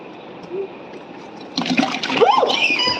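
Objects dropped into a bucket of water in Kolkata make a series of close splashes and sloshes, starting after a quiet moment, with a voice briefly audible in the background.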